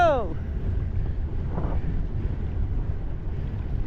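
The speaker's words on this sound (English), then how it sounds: "This is a pretty gnarly gust, eh?" A strong wind gust buffets the microphone aboard a small sailboat with a short mast, a rushing, rumbling roar over water; a voice shouts briefly at the start.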